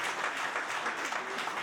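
Applause from a church congregation during a united worship service, a steady even wash of clapping filling the short stretch without pause.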